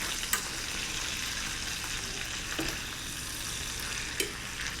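Lobster cooking on a low simmer, a steady soft bubbling sizzle with faint occasional clinks, even and continuous throughout with no talking.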